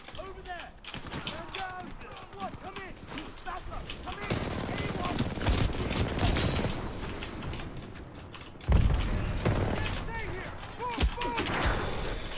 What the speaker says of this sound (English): getting a lot of people shooting at me over there.